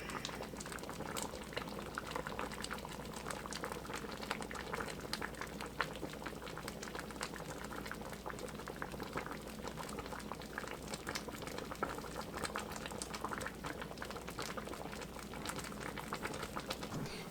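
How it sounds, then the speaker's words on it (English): Chicken and dumplings broth boils hard in a pot, a steady dense bubbling and popping that runs unbroken and close throughout, with no voices. "I want it to keep boiling though"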